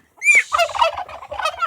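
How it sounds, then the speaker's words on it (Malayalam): A big rooster on a farm gives a loud, close call lasting about a second and a half, a rising cry followed by a run of rapid, throaty pulses, with no other sound around it. "മുഴുത്ത പൂവൻ"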